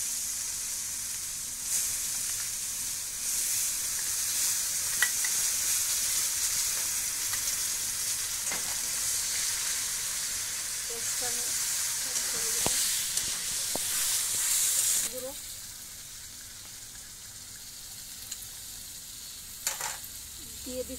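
Ginger, garlic and onion paste fries in a pan for a chicken bora curry, giving a steady, close sizzling hiss with occasional faint stirring scrapes and clinks. No one speaks.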